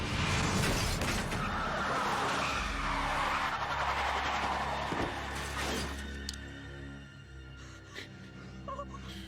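Car tires squeal through a long skid in a TV drama scene, loud and sustained, then a thud of impact as the noise drops away into quieter background.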